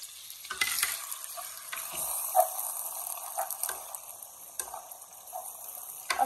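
Nopal hearts sizzle steadily in hot melted lard in a pan, a soft crackling fry with occasional stirring scrapes and small pops, fairly quiet and with no voices.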